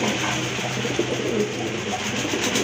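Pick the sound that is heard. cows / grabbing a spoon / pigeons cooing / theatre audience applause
pigeons cooing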